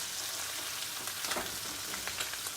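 Chicken thighs fry skin-down in a pan over low heat, giving a steady, close sizzle with scattered sharp crackles and pops throughout.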